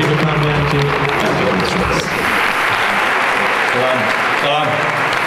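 A hall audience applauds a guest at a film event, thick sustained clapping filling the room while someone speaks over it through a microphone.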